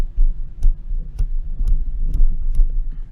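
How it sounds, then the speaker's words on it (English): The gain knob on a Simorr Wave U1 USB microphone is turned down in six small detented clicks, evenly spaced sharp ticks over a low hum, close and distinct. "The one thing I'm going to do right now is turn it down 6 little clicks"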